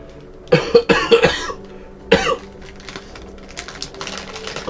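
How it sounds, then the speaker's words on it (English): A congested person coughs several times at close range, a cluster of harsh bursts followed by another single cough, with keyboard typing and clicks continuing faintly in the background. "I've been coughing a lot"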